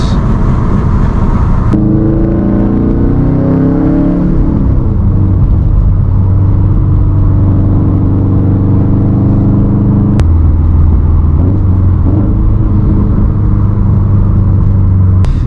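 Subaru WRX STI tuned to 500 hp on E85 with an FP Blue turbo, pulling hard under acceleration; a loud, steady engine roar with rising harmonics through gears and a brief shift break, close and continuous without speech.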